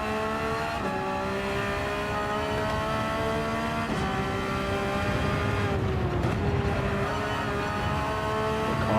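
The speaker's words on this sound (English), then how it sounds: "The car sounds fine." Race car engine in a Gran Turismo league race holds a steady high whine, rising and shifting pitch through gear changes, with tire squeal near the end, continuous and fairly loud.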